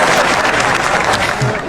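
An audience at an Ethiopian comedy show claps in a dense, continuous burst, loud and close, with some crowd murmur mixed in.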